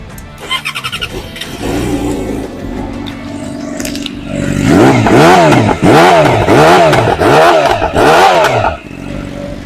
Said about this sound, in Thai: เดี๋ยวฟังเสียงเครื่องอีกรอบนะครับ